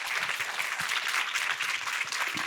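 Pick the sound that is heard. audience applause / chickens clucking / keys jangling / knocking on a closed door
audience applause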